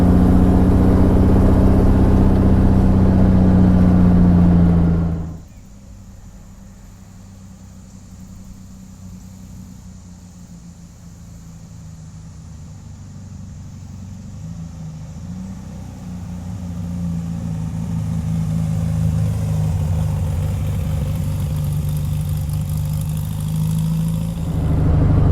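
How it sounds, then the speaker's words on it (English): A 1970 VW Beetle engine pulling uphill in third gear, a steady low air-cooled drone heard from inside the car that starts loud, drops sharply, then builds again toward the end. "it's pulling just fine going up these grades in third gear."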